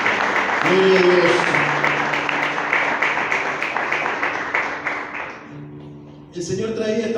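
A church congregation claps during a worship service, steady applause that thins and fades toward the end, over sustained musical tones, before a voice resumes.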